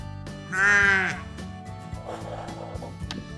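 A young lamb bleats once, loud and close, in a farmyard setting, a wavering cry of about half a second followed by quieter shuffling and background noise.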